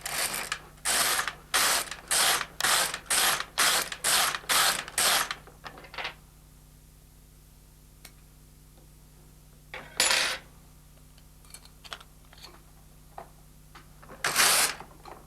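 An LK150 knitting machine carriage is pushed back and forth, knitting off shoulder stitches onto scrap yarn. Nine quick, regular ratcheting rasps are followed by quieter clicks and two more isolated sweeps, all close and clear with no talk.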